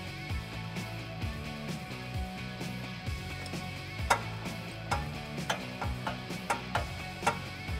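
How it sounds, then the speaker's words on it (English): A socket ratchet tightens the flange nut on an extreme-duty front solid CV driveshaft for a Jeep Wrangler JK, making quiet, close clicks that come in a steady series. "I'm just gonna get a couple of these threads started here and then finish it off with that socket."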